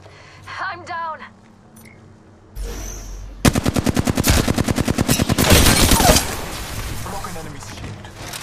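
Automatic gunfire in the battle-royale shooter Apex Legends, a long rapid burst of evenly spaced shots that sounds close and loud, preceded by a short sharp impact, with in-game voice lines and effects around it.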